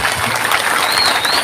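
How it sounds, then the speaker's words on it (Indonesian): An audience at an Islamic religious gathering applauds for the Raudhatul Huda pesantren, a brief, dense burst of many hands clapping at once, fairly loud and close. "Tepuk tangan untuk Raudhatul Huda"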